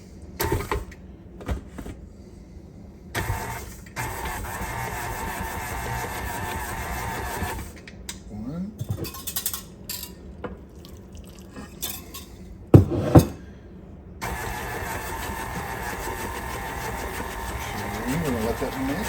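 An electric mixer beats cake batter for a retro Coke cake on medium speed, a steady whirring hum with clinks against the bowl, interrupted by short pauses and occasional talking.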